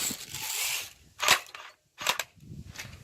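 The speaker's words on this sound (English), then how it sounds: "Test fire." An airsoft gun is test-fired at a target outdoors: three sharp, separate snapping shots spaced about a second apart, each with a brief bright crack, over light background noise with no talking.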